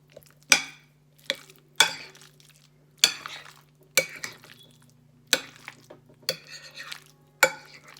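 Potato salad stirred with mustard and sweet relish in a bowl, a spoon or utensil scraping and clinking against the dish in repeated strokes about once a second, close and fairly quiet over a steady low hum.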